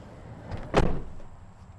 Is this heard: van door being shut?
yes